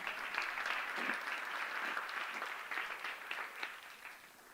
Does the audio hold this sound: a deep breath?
no